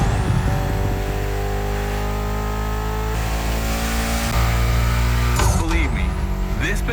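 Mitsubishi inline-four with 280 horsepower in The Crew Motorfest, revving loud and close with rising and falling engine pitch and a sharp throttle burst near the end, while someone talks over it.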